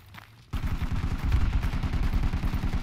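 Rapid automatic gunfire from the Project Reality video game starts abruptly after a quiet half-second and keeps going as a loud, steady rattle of close bursts.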